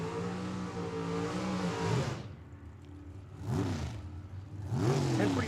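Drag racing cars, a Chevy II Nova among them, launching down the strip at Tucson Dragway: a run of rising engine revs, each climbing sharply then cutting off, fairly close and fading slightly between bursts.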